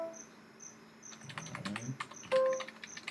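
Quick, light keyboard typing as musical notes are entered into notation software, a run of soft clicks over about three seconds with a faint high insect-like chirp repeating in the background.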